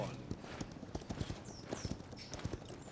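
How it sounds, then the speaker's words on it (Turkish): Hoofbeats of a horse mount in the video game Paladins, a quick rhythmic clip-clop running for the whole stretch at moderate volume with faint game effects above. "Atı hırlandırdı."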